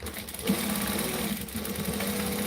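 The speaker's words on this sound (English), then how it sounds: "I'm going to top stitch along the top edge" Sewing machine top-stitching along a fabric edge, a steady, fast mechanical whir with a rapid needle rhythm running continuously at close range.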